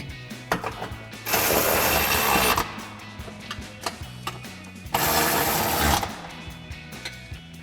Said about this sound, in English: we'll go ahead and grab our 18mm socket and extension again on our ratchet.